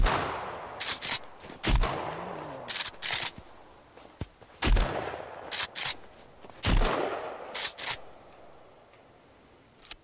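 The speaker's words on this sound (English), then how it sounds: "that might have been an excessive use of shotgun shells" A shotgun booms repeatedly in the video game Sons of the Forest, several loud blasts with pump or reload clicks between them, spread irregularly over a few seconds amid quieter background noise.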